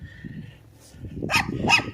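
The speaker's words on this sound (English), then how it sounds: "Elsa barking at the chipmunks" A dog named Elsa barks at chipmunks outdoors, two sharp barks close together near the end, with faint low rumble underneath and a quieter stretch before.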